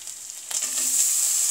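Red lentils (masoor dal) tipped into a hot pan of vegetables for a hotel-style breakfast dish. A steady hiss jumps into a louder, fuller sizzle at the moment they land, then holds evenly, close up and without talk.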